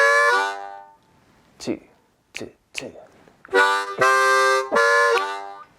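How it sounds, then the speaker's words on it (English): Harmonica riff played up and down holes 1 to 5, alternating sucked and blown notes in short separate bursts, then longer sustained chords close and loud, with a few counted words spoken between phrases. "just go back to the #1 harmonica riff"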